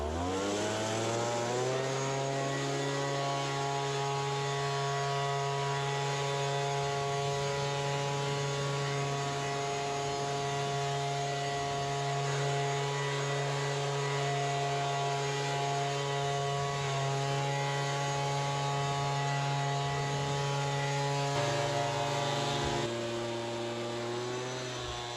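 A leaf blower runs steadily on an allotment, blowing leaves through a fence, its loud motor droning with a strong tonal whine that holds for over twenty seconds before the pitch shifts briefly near the end.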